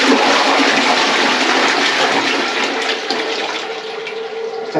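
A toilet flushes and refills, giving a loud, steady rush of water that runs without a break and eases slightly toward the end, with no talking.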